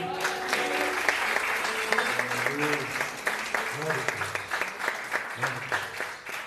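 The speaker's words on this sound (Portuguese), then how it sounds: "Você pode aplaudir o Senhor?" A church congregation applauds during an evening prophetic worship service, steady dense clapping filling the room throughout, with voices and some sung or spoken tones rising beneath the clapping.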